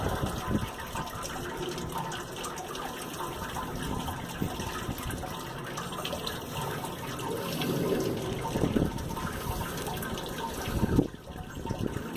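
Wort drains through the grain bed of a Grainfather all-in-one brewing system, brewing an English IPA. It makes a steady, soft gushing trickle of liquid that runs on for several seconds, fairly quiet and with no speech.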